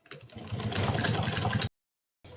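A sewing machine stitches stretched elastic onto pajama fabric in a loud, close mechanical whir that lasts under two seconds, stops dead, then starts again briefly at the end.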